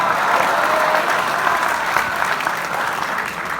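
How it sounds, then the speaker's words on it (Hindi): An enthusiastic audience at a laughter comedy show claps continuously, a dense, loud, steady wash of applause throughout with no voices standing out. "पहली बार इतनी बढ़िया ऑडियंस मिली जो खुलखुला के हंसती है और ताली बजाती है"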